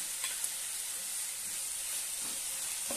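Slit green chillies frying in hot oil in a pan, a soft, continuous hiss and sizzle that stays even throughout and is fairly quiet and close.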